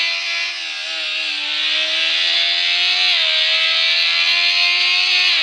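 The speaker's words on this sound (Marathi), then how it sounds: "आवाज का खतरनाक आवाज येऊ राहिला गाडीचा" Motorbike engine in the Traffic Rider video game, racing at high speed: a loud, steady revving drone that holds throughout, its pitch edging up slightly and dipping briefly near the end.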